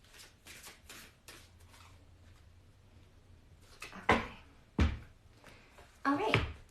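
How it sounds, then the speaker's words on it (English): A deck of cards is given a quick shuffle during a zodiac tarot-style reading, with a few sharp riffling bursts between softer handling sounds, close and fairly loud, while a person talks quietly. "I'm just gonna give my cards a little shuffle and then cleanse"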